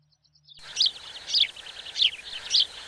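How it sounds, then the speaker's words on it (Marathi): Birds chirping at dawn in short bright bursts, four repeated calls spaced evenly over a quiet background, fairly close and clear with no voices. "पक्ष्यांच्या किलबिलाटामुळे शांतता भंग झाली होती"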